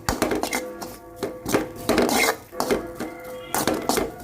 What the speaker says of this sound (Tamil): இனி இதை வேறொரு பாத்திரத்தில் மாற்றிட்டு இந்த சீனிச்சட்டியை நம்ம கழுவி எடுத்துடலாம்